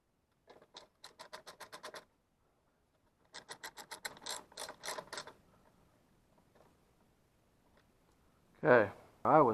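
Rapid mechanical clicking from the fuel solenoid on a Kohler Command Pro 25 engine of a Wood-Mizer LT35 sawmill, two close bursts of evenly spaced clicks with a short gap, then quieter rattling and a louder noise at the end.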